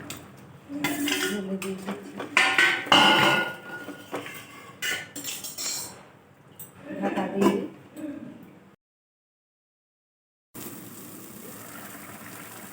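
Pointed gourd and paneer tumble into a pan and are stirred with clattering metal scrapes and clinks, then sound cuts out completely for a couple of seconds before a faint steady background returns.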